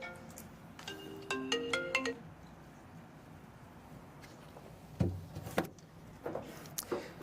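A mobile phone ringtone plays a short melodic phrase of quick repeated tones in a quiet high school gym during a tournament draw, then stops, followed by faint rustling and handling noises.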